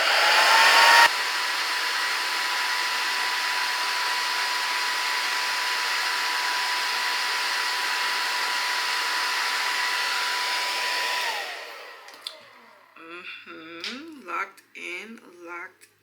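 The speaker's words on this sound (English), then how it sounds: "now I'm gonna go in the blow dryer to lock it in" A blow dryer roars steadily at close range for about eleven seconds, setting a melted lace frontal wig, then cuts off, followed by quiet shuffling and handling sounds.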